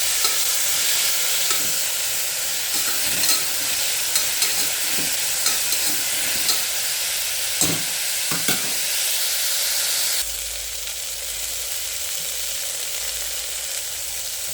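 Cluster beans, added right after green gram, stir-fry in a hot pan with a loud, continuous sizzle and hiss, while a spoon scrapes and stirs with repeated close knocks, no voices present.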